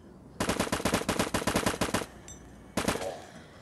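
Automatic gunfire at zombies in the LifeAfter video game rattles out in a rapid burst of about fifteen close, sharp shots, then a short pause and a single louder shot that trails off.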